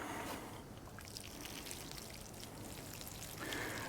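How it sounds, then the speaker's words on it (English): Water pours onto newly planted bare-root strawberry plants; a soft, continuous splashing and trickling runs throughout, quiet and close, with a slight swell near the end and no talking. "So we're gonna water them."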